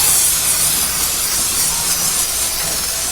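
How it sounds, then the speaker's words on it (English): Pam cooking spray hisses onto the grill grates of a charcoal grill burning lump charcoal: one loud, steady spray burst lasting about three seconds, close up, with no talking. "Now we're going to spray it with Pam."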